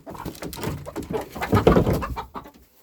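Chickens and turkeys in a farmyard poultry house, with an old bearded rooster among them, giving close, busy clucking and bird calls that swell in the middle.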